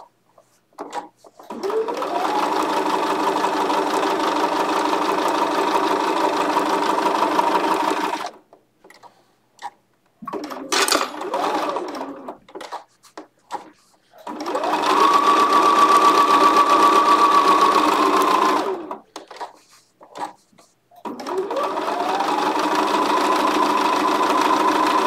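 A Bernina embroidery machine stitching out a French roses design runs in three long, steady bursts of close mechanical whirring, with short pauses and small clicks between runs.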